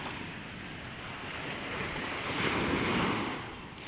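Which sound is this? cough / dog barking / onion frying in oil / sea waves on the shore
sea waves on the shore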